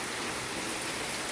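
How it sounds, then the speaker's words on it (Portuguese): Very heavy afternoon rain pours down in Olinda, Pernambuco, a dense, unbroken hiss of falling water that stays steady and fairly loud, with no other sounds. "Muita chuva, chuva muito forte."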